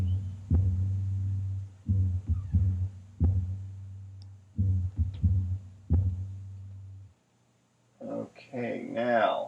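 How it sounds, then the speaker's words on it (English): A deep, booming bass line sample from a song repeats in short pulsing hits within a beat, loud and upfront, then cuts out before a voice starts talking near the end. "here's the bass line sample"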